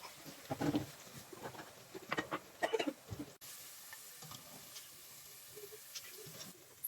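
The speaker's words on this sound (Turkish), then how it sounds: "Biberler kızarmaya başladıktan sonra küp küp doğradığımız sucukları ilave edelim." Peppers and cubed sucuk sausage sizzle and crackle steadily in a hot pan, with occasional louder stirring scrapes near the start.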